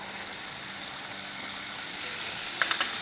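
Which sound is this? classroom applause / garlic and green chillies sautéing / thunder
garlic and green chillies sautéing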